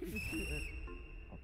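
A whistle blown as a forfeit in a you-laugh-you-lose challenge gives one sustained shrill tone, loud and close, fading after about half a second over muffled voices in the background.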